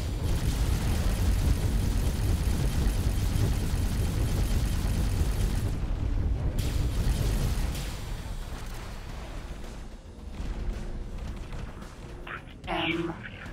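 Small spaceships blowing up in the space game X4: Cradle of Humanity, a dense, continuous rumble of blasts and weapon fire that eases midway, with a louder burst near the end.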